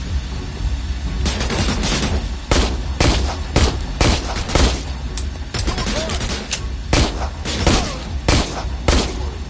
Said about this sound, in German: ich habe diesen Mann doch dreimal in den Kopf geschossen